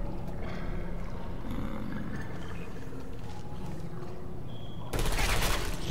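Portal 2 turret gunfire rattles in a steady, dense stream of rapid shots for about five seconds, close and loud, ending in a harsher, brighter burst.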